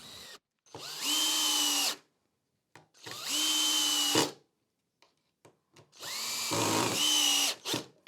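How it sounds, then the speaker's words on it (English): A power drill bores pilot holes and drives screws into timber slats for a compost bin with removable dividers. Three long, loud whirring runs with short pauses between them, close up and with no talking. "I'm going to pre-drill the holes and drive in the screws."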